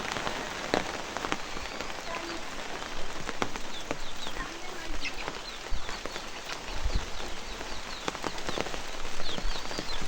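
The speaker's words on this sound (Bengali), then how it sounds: "তো আবারও বৃষ্টি আসতেছে মনে হয়।" Rain falling steadily around a goat farm, a dense even hiss with scattered heavier drop taps, close and continuous throughout, with no voices.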